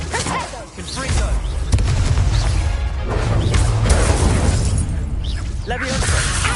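A Confringo fire-blast spell explodes in a Hogwarts video game, a dense, loud burst of crashing, whooshing impact noise with shattering debris that carries through the whole span.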